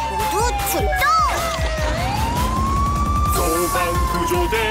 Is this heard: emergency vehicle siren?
yes